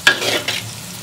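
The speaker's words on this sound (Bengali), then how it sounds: "এরপরে ডিমটা এরকম করে নেড়ে ভেজে দিলাম আলাদা করে" Egg is stirred and fried in a pan: a quick scrape of a spatula followed by a short burst of sizzling, close and fairly loud.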